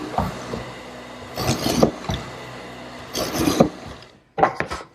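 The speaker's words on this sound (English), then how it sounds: "Now to make the mortises in the stiles, I'm using my hollow chisel mortiser." A hollow chisel mortiser with a 1/4 inch chisel drilling mortises about 1.5 inches deep into pine stiles, heard as three separate bursts of grinding, rasping wood-cutting noise with quieter pauses between them.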